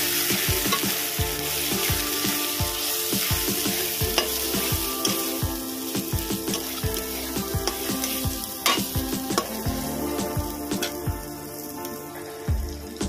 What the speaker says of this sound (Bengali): আমি এখানে লঙ্কার গুঁড়ো, জিরের গুঁড়ো, ধনিয়া গুঁড়ো, হলুদ দিয়ে দেবো। ভালো করে কষিয়ে নেব।